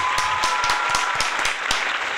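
An audience on a Latin music talk show applauds, a brief burst of crisp separate claps with a light crowd wash, lasting only a couple of seconds.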